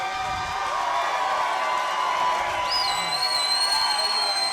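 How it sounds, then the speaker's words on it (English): A crowd applauding and cheering at a live comedy roast, a dense wash of clapping with scattered whoops and high whistles near the end, loud and sustained. "Give her a hand of applause."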